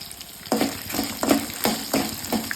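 Shallots, ginger and red chillies sizzling in a pan for a groundnut chutney, a steady fry broken by regular stirring scrapes about every half second, close and alone.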